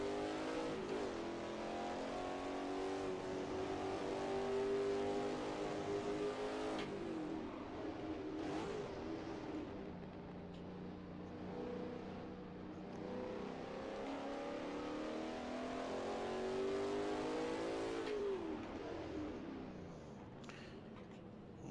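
A Holden HSV engine in a racing simulator revs and accelerates steadily, its pitch climbing and dropping through gear changes over a continuous loud drone, with no talk.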